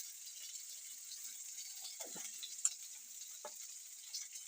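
Panch phoron spices with dry red chilli crackle in hot mustard oil, a soft, even sizzle carrying a couple of faint spoon scrapes and one sharp tick, close but quiet.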